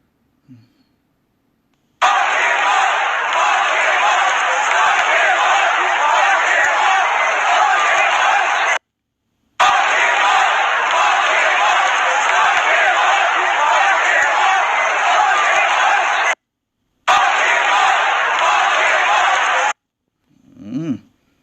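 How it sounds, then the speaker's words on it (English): A large baseball crowd at Nats Park during the World Series chants "lock him up", a loud, sustained roar of massed voices in three long stretches broken by abrupt gaps. "Full-on lock him up chants heard throughout the crowd at Nats Park after President Trump was announced and shown on the screen."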